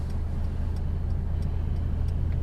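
Steady low idle of a 2016 Mercedes-Benz C450 AMG V6 with aftermarket exhaust, a constant deep rumble with faint ticking on top and no talk over it.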